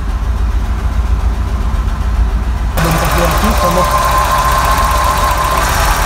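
A cold Ford Scorpio engine idles with a low, steady rumble and then lifts gently into a rev partway through. People talk nearby over the running engine.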